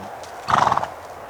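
A horse in a riding lesson, moving into a canter, gives a brief loud burst of hoof and horse sound lasting under half a second, with otherwise quiet arena background before and after.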